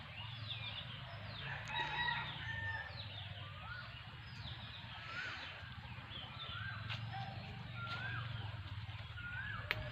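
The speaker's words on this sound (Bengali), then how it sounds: "পাখির ডাক" Faint bird calls, including chirps and distant rooster-like crowing, repeat over a low steady background hum outdoors in a remote village in Feni District, Bangladesh.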